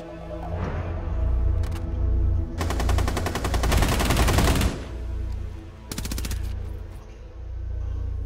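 Rainbow Six Siege machine gun fire on the Fortress map, a sustained rapid automatic burst of about two seconds over game background noise, then a second shorter burst a moment later.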